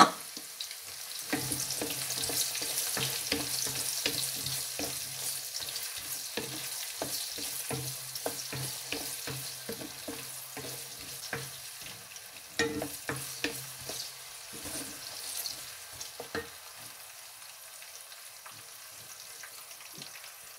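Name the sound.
onion frying and being stirred in a pan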